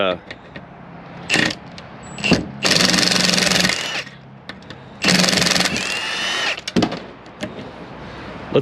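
A power tool spins off stubborn small 10mm bolts from a scrap speaker in loud, close whirring bursts of about a second each, separated by quieter clanks and handling noises.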